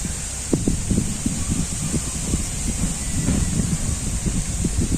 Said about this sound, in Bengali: এই বাতাস ছাড়ছে